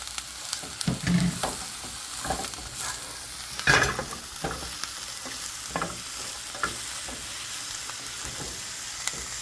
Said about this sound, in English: adding the mushroom to this